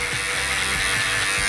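A cheap electric shaver from Wish drones with a steady, close, bright buzz through a haircut, with faint low thumps as it moves against the head.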